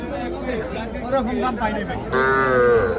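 A calf moos loudly near the end, after a stretch of people chattering nearby amid a busy crowd at the Hazratpur cattle market.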